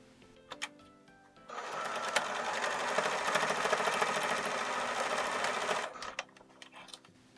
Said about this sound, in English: And straight stitch, so right down that to form a little channel.